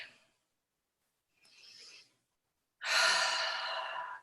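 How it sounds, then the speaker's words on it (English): Deep breathing during a guided meditation: a short exhale, a soft inhale, then a long, fuller breath out, close and calm with quiet pauses between. "Take a deep breath."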